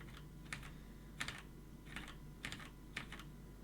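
Keys on an Amiga 2000 keyboard with Cherry MX switches are pressed in a quiet, close, irregular series of about six clicks, some in quick doubles, with no talking.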